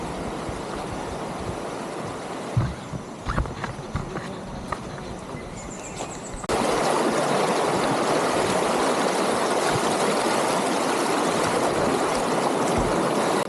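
Water rushes and babbles continuously, a steady wash of flowing mountain stream noise in the Sierra Madre, Aurora, that grows louder and fuller partway through, with a few faint knocks early on.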